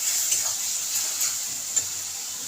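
Red chili powder and spices frying in a pan for a chickpea dish, giving a steady soft sizzle and hiss throughout with a few faint stirring clicks, close and fairly quiet, with no talking.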